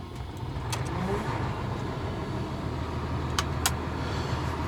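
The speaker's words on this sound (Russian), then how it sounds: "Все, запускаю автомобиль." A car engine idles steadily close by on a cold winter morning at minus eight degrees, with a few sharp clicks and knocks from the vehicle over its low, continuous rumble.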